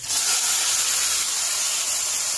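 Taro leaves and shrimp hitting a hot pan for a Bengali shrimp ghonto, giving a loud, steady burst of hissing sizzle that fills the short moment, up close with no talk.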